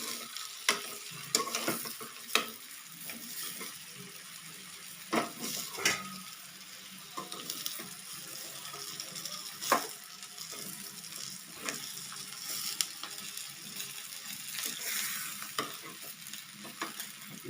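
Ridge gourd pieces coated in masala are sautéed gently in a pan, with a soft continuous sizzle under frequent scraping and tapping strokes of a spoon as the vegetables are turned.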